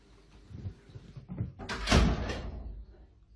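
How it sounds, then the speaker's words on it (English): A door swings and shuts indoors with a soft thud, preceded by light shuffling and handling sounds; a quiet, close, single closing. "do you mind closing the door for me?"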